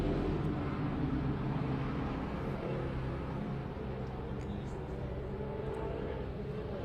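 Supercars in a circuit race at Killarney roar down toward turn one, a steady distant wash of engine drone with no separate pass-bys standing out.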